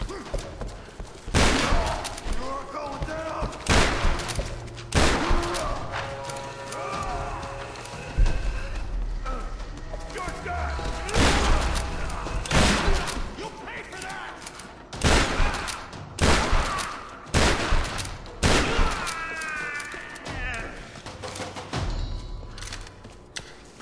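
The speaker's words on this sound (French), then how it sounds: "Avec un fusil à pompe, ça rend les choses beaucoup plus faciles." Shotgun blasts in the Tomb Raider video game, loud booming shots repeated every second or two over a dense bed of game action and ambience.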